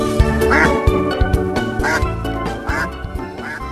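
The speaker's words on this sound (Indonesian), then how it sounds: "Wow, ini ada bebek angsa." A toy duck quacks repeatedly, loud and close, in a series of nasal honks over a busy toy-play background.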